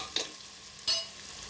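Avakaya biryani masala in a hot pan, with two quick, separate spoon scrapes over a faint, soft sizzle.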